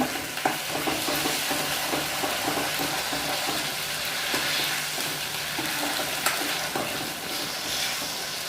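Ginger garlic paste fries and is stirred in a pan for an egg curry, giving a steady close sizzle with scraping stir sounds and occasional sputters, no voices.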